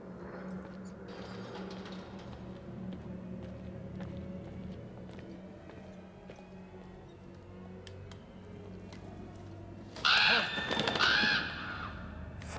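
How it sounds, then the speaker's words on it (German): A crow calls in the video game Until Dawn, a short burst of sharp, harsh caws near the end that stands out loudly over a low, steady ambient hum and scattered faint ticks. "Vogel."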